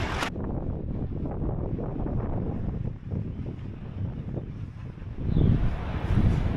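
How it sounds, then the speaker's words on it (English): Wind gusts buffet the microphone at a seaside beach in Sopot, Poland, a loud rumbling roar that rises and falls with stronger gusts near the end. "It is windy today."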